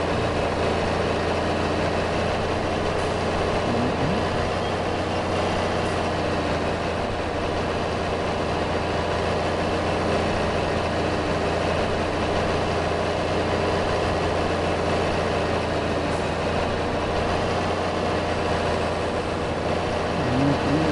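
A White farm tractor runs steadily while tedding hay in a field, its heavy diesel engine droning at a constant, loud, close rumble throughout with no voices.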